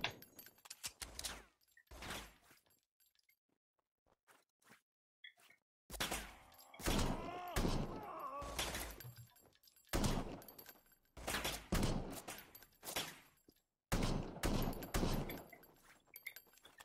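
Gunfire in the video game RICO, with several short, loud bursts of shots separated by silent gaps, close and punchy, alternating with brief quiet stretches.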